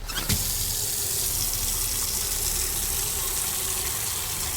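Water runs steadily from a tap into a container at room temperature, a loud, continuous rushing gush that starts abruptly and holds unchanged throughout.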